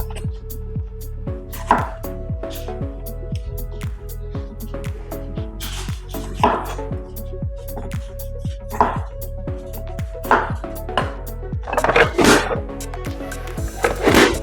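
Roma tomatoes are pressed through a kitchen dicer in a long series of sharp, regular chopping clunks, each push landing close and loud, with occasional squishy, wetter bursts between them.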